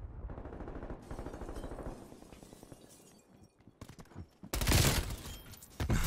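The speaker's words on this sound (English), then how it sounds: "Hear the lapa being used." A LAPA submachine gun fires in a Black Ops multiplayer match in rapid automatic bursts, followed by a loud burst of breaking, shattering impact noise near the end.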